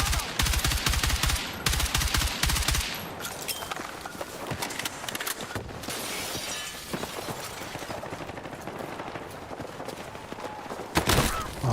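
Automatic rifle fire in Battlefield 6 as a magazine is emptied, a loud rapid burst of shots up front giving way to scattered crackling reports and debris, with a final sharp blast near the end.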